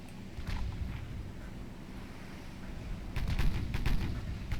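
Warship guns fire in Ultimate Admiral Dreadnoughts, mostly as low rumbling booms. A louder cluster of sharp blasts comes near the end over a steady background of sea and engine noise.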